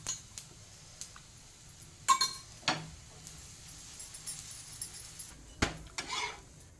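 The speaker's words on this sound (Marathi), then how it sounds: "चला आता आपला डिंडरा पलटून घेऊ" Green moong dhirde, a thin lentil pancake, turned over in a hot pan, with a few sharp spatula clinks and scrapes against the metal over a faint steady sizzle, heard close and without talk.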